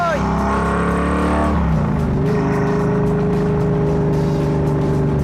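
A loud car engine drones close by, shifting pitch as the throttle eases, a steady mechanical roar throughout.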